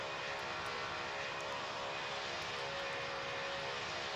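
A flight video game airliner lands with full reverse thrust: a steady, loud, broadband engine roar holds throughout without a break, with no voices over it.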